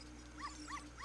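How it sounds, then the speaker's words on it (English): A white dog in Legend of Zelda: Ocarina of Time gives three short, faint barks at an even pace over a low steady game hum. "now the dog you want to get is the white dog"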